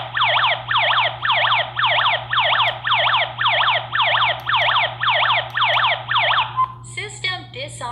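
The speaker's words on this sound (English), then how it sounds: "That'll actually sound the alarm" A nine-zone home security alarm system sounds its siren: a loud, rapidly repeating electronic warble in steady cycles. It cuts off near the end, followed by brief beeps and an automated voice announcing the system.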